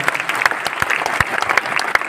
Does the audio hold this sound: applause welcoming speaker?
yes